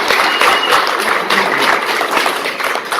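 Loud, dense applause from an audience at a political party breakout session, a continuous close wash of many hands clapping without pause.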